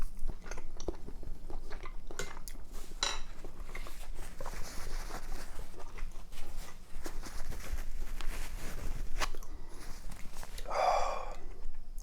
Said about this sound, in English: Let's bite into a chicken.